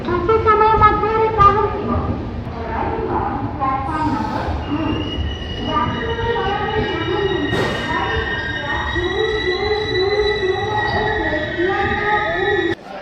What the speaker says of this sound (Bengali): নির্ধারিত সময় থেকে প্রায় চল্লিশ মিনিট দেরিতে আমাদের ট্রেন এসে পৌঁছালো